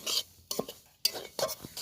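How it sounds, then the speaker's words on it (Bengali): Semolina dry-roasting in a pan is stirred with a spoon in four quick scraping strokes, each a short gritty rasp against the metal with soft pauses between, close and fairly quiet. "সুজিটা হালকা করে নেড়ে নেড়ে ভেজে নেব"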